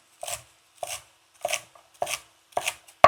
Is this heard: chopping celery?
yes